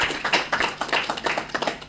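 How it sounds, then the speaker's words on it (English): Audience applause at a conference side event on global financial architecture, a brief burst of scattered hand claps from a modest crowd, moderately close and fading. "Let's give him a hand of applause."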